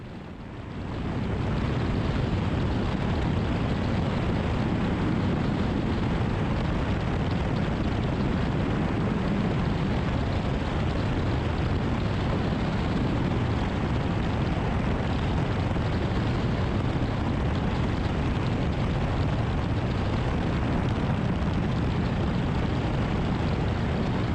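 A Cessna 172 on landing approach, its piston engine and airflow heard from a tail-mounted camera as a loud, continuous broadband roar that swells in over the first second and then holds steady with no speech.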